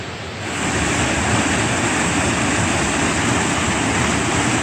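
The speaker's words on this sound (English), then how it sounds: "It's a small waterfall" Elbow Falls, a small waterfall on the Tuckasegee River in Panthertown Valley, Nantahala National Forest, North Carolina, gives a loud, continuous broadband rush of falling water that swells in at the start and then holds steady. No voices are heard.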